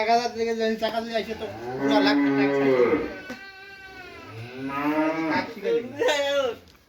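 A bull at a Bangladeshi cattle market gives a series of long, loud, close moos, one drawn-out low call after another, with only a little background noise.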